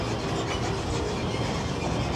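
Disneyland's Mickey and Friends parking tram rolls along with a steady, dense rumble and rattling clatter, close and continuous, with no talking.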